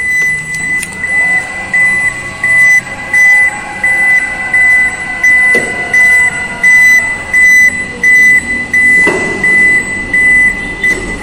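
A power sliding door opens on a 2022 Nissan Serena or Toyota Voxy minivan, with a steady series of evenly spaced warning beeps sounding over a quiet motor hum and a soft mechanical clunk partway through.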